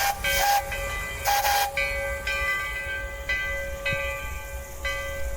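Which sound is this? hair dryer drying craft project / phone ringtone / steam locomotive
steam locomotive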